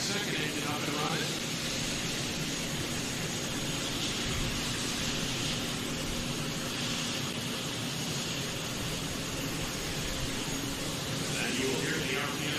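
A T-64 turbine engine on a pulling tractor at a county fair truck and tractor pull whooshes with a steady, broad roar and a high whine, continuous and fairly loud amid crowd noise.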